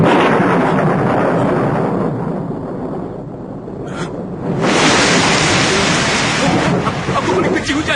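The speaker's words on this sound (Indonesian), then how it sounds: "Aku boleh benci hujan." A thunderstorm with heavy rain roars loud and close, dipping briefly in the middle before a fresh burst of thunder and downpour surges back in.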